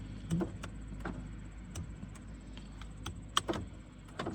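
The door lock actuator on a 2013 Honda Fit clicks and thunks over and over as a fault makes it keep locking. The short mechanical clunks repeat at uneven intervals and sound close, with no speech.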